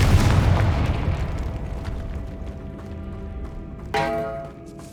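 A Confringo fire spell exploding in the Hogwarts Legacy video game, a loud booming burst at the start that rumbles and fades, followed by a second sharp blast with ringing tones near the end.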